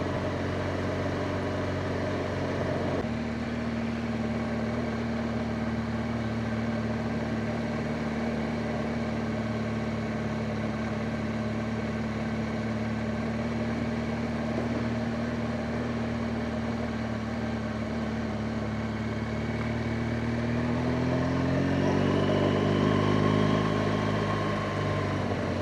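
A motorcycle engine hums steadily under light throttle while riding, a smooth constant drone that rises slightly in pitch toward the end as more throttle is applied.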